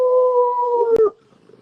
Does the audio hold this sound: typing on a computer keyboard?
no